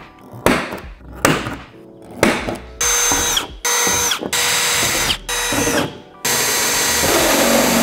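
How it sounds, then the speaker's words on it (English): Power tool cutting a hole in the side of a van for a double-glazed glass window: several loud, close bursts of harsh whining, then a long sustained run of grinding metal cutting that ends the clip. "cut the hole in the side of the van"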